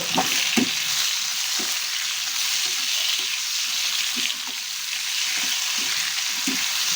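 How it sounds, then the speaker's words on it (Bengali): Drumstick (moringa) stems in mustard paste sizzle steadily in a hot pan while a spatula scrapes and stirs in repeated strokes, close and fairly loud. "এবার আমরা এটাকে সুন্দর করে নাড়িয়ে নেবো"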